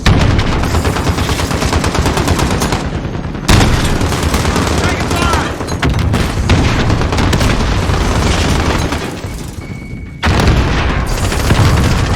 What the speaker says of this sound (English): There goes the tank.